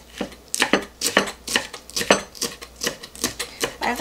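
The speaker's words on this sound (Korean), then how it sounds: "양파 조금만 채썰을게요. 가능하면 곱게 채썰어주면 좋아요." A knife julienning onion into fine strips on a cutting board, a run of crisp, close taps at a brisk, slightly uneven rhythm, each cut a sharp click with no talking.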